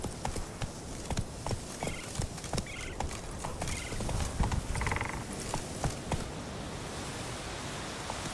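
Horse hooves drum along in Witcher 3: Wild Hunt, a loose rapid rhythm of thuds under wind-like noise, fairly close, with no talk over them.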